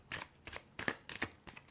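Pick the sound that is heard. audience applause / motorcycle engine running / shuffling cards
shuffling cards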